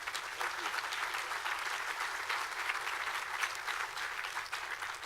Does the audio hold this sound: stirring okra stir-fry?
no